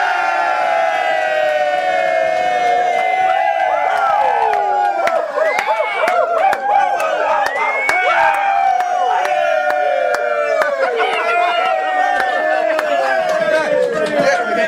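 A loud, dense crowd cheers, whistles and chatters without a break during a live show intro at a hunt camp.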